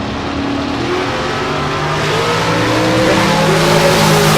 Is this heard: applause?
no